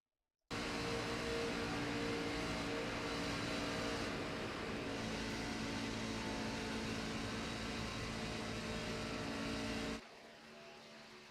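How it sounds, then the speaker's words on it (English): Race car engine at full throttle on the Daytona International Speedway in a sim racing game, a loud sustained high-revving drone for about ten seconds before cutting off to a quieter hum. "There's full speed. Let's take a listen. Listen to this throttle."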